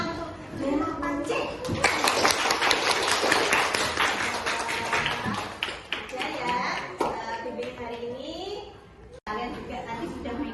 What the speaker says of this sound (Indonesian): tepuk tangan untuk 8C